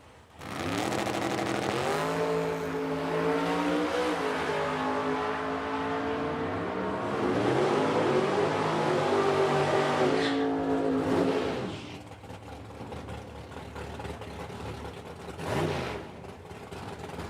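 A drag racing car makes a single solo pass down the left lane at Oil City Classic in Edmonton, engine roaring loudly as it revs up through rising gear pulls, then dropping away and fading with a brief later burst.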